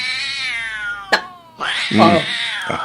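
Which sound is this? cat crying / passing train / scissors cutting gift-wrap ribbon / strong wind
cat crying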